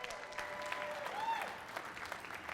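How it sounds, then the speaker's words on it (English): Faint, distant applause from the audience at a business pitch competition finale, a brief soft patter of clapping heard from far off. "Let's give that a round of applause"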